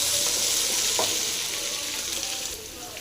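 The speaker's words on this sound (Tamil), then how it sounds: "எண்ணெய் காஞ்சிச்சு கருவேலை போட்டுடலாம் கொஞ்சம் இடிச்ச பூண்டு சேர்த்துடலாம் நல்லா ஃப்ரை பண்ணிக்கலாம்" Curry leaves and crushed garlic fry in hot oil with a loud, dense, continuous hiss that holds steady throughout, with one faint clink near the start.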